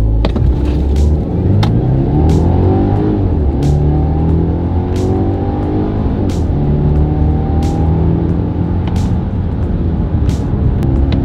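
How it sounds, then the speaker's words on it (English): A car engine roars loudly in a 0 to 60 sprint, climbing through several gears as it accelerates hard, with rising and shifting engine tones and brief breaks between shifts. "let's do a little 0 to 60 sprint, shall we?"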